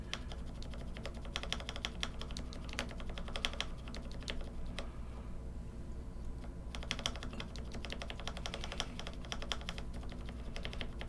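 Typing on a C3 Zer0.9 polycarbonate keyboard fitted with NK Cream switches gives close, quick clacking keystrokes in bursts, with a brief pause in the middle and no talking.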